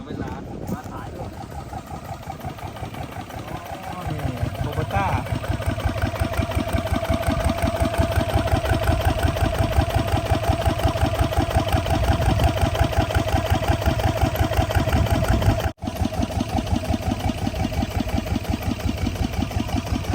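A 155-horsepower tractor engine chugs steadily while plowing a flooded rice paddy, a loud, continuous rhythmic rumble with a brief start-up change near the beginning; no clear talk stands out over the engine.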